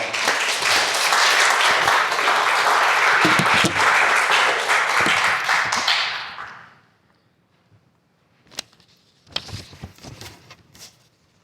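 A church congregation applauding to welcome the pastor, dense loud clapping for about six seconds that fades out, then a few scattered knocks and shuffles in the quiet hall.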